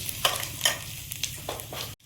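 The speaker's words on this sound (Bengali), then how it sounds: "কড়াইতে তেল দিয়ে দেব, পাঁচফোড়ন," Panch phoron spices hit hot oil in a kadai, giving a brief, faint spell of soft crackles and light sizzling pops in a quiet kitchen.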